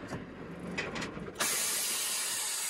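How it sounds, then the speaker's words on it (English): A loud, steady burst of air hiss from a Unimog U1300L army truck's air dryer purging itself starts abruptly and keeps going, following a few quieter mechanical clicks and rattles after the engine is shut off. "that hissing sound is the air dryer just cleaning itself out"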